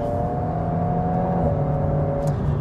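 Renault Alpine A110 with a 1.8-litre turbocharged four-cylinder engine in sport mode with the exhaust valve open; a steady, close, droning engine note with a sustained tonal hum, heard from inside the car.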